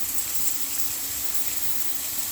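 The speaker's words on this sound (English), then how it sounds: "So this is where I am for the next while, filling this with water." Water steadily filling the tank of a wax melter used for cleaning beekeeping queen excluders, a soft continuous hiss and rush that stays even and moderate throughout, with no talking.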